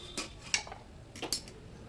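A knife pokes into steamed chana dal and cabbage cooking together in a pan, giving a few soft metallic clinks and scrapes against the vessel, close and quiet.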